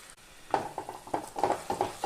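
Curd being stirred into a curry frying in a pan, with a spoon scraping in repeated short strokes over a faint sizzle, close and moderately loud with no voices.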